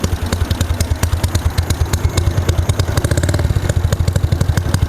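A Honda Wave 110i motorcycle idles close up with a loud, throaty aftermarket exhaust, firing in a fast, steady, lumpy rhythm with metallic clatter.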